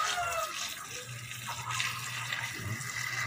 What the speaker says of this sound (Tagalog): Hinuhugasan niya yung kanyang paa.